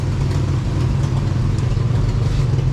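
A 1956 Plymouth Savoy engine idles rich just after start-up, giving a steady, close, low rumble with an even throb throughout and no voices.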